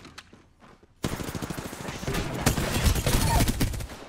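Machine gun fire in a game bursts in after a short quiet stretch, a dense rapid run of loud shots that stays continuous to the end with no one talking over it.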